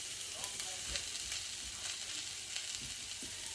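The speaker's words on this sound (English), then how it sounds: "So I got a really hot pan. Put some olive oil in it. And then I'm just getting the wedges" Cauliflower wedges sear in a very hot pan with olive oil, giving a constant fizzing sizzle. Soft pops and light stirring sounds come through it.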